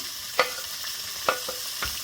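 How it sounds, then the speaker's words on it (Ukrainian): Meat sizzling steadily in a hot pan, a continuous bright hiss broken by a few sharp pops and stirring clicks. "Кладемо м'ясо на розігріту сковорідку,"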